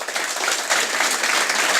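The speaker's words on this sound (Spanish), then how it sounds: "Quería el aplauso, quería el aplauso." Audience applause fills the room after a talk on blockchain tokenization and artificial intelligence: steady, dense clapping, fairly loud and continuous throughout, with no talk over it.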